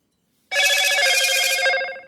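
A telephone rings once in a steady electronic trill, close and clear, lasting about a second and a half before stopping.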